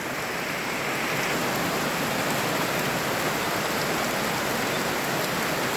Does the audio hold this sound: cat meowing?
no